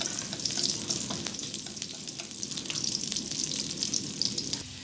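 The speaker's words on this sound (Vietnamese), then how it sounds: "Bây giờ mình sẽ cho hành vô để mình phi cho nó thơm ha." Onions frying in hot oil in a pan while a vegetarian ginger braise is cooked, giving a loud, continuous crackling sizzle close by with no talking.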